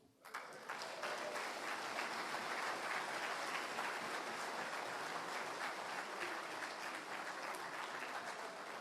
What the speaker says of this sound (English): Let's give him one more nice round of applause.